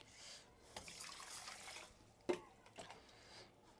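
Rice, red lentils and mung beans are rinsed in water, with faint sloshing and trickling and one soft knock partway through, all quiet and close.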